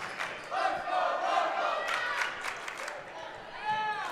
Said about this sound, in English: It's a good crowd here at Staples.